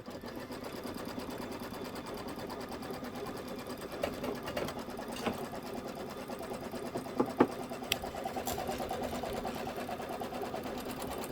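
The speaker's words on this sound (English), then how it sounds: "Go ahead and stitch this, and then we're going to put our filler block piece right on top of it." An embroidery machine stitches a placement line on a quilt block, a steady fast mechanical whir and rattle running unbroken throughout, with a few sharper clicks partway through and no talking.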